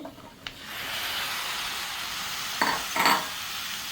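Red amaranth stems stirred into a spice paste in a hot pan, sizzling steadily with a constant frying hiss and a few louder scraping stirs near the end, close and alone.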